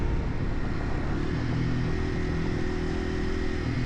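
A Yamaha TW200 motorcycle engine drones steadily while being ridden, a loud, constant low rumble with a slight clatter and no noticeable revving, heard up close and alone.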